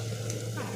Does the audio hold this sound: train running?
no